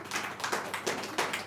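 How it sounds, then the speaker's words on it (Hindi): An audience at a poetry recital clapping in a brief, uneven burst of separate claps, moderately close and fairly quiet. "एक बार जोरदार तालियां इसके लिए।"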